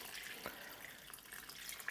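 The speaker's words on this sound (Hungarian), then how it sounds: "És akkor még felöntöm annyi vízzel, hogy ellepje." Water poured into a pot of cauliflower soup with meatballs to cover the ingredients, a steady, faint splashing stream under a soft wash of liquid noise with no talk.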